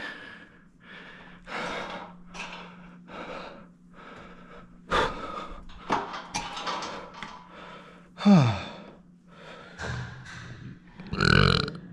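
A man at the gym burps repeatedly between heavy breaths, a series of close, loud belches with gasps and sighs in between.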